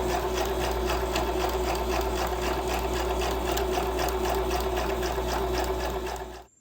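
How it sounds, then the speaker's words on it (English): A sewing machine runs continuously while stitching slippery tablecloth material for van window covers, a steady close mechanical whir with rapid needle chatter that cuts off abruptly at the end. "line up the edge with the inside of the sewing machine foot, and the machine does a pretty good job maintaining a straight line"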